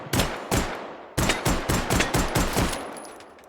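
Mauser pistol fired in the H3VR virtual reality game: about eight sharp, loud shots in quick succession, a brief pause after the first two, then a rapid string of close reports, each with a short echoing tail.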